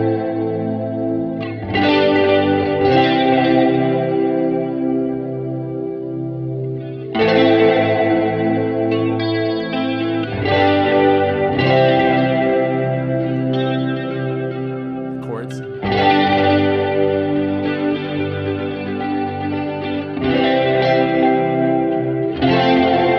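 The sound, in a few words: guitar chords with vibrato and reverb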